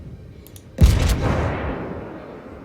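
A heavy naval gun salvo booms once in World of Warships, a sharp loud blast followed by a long rumbling decay that fades over the next couple of seconds.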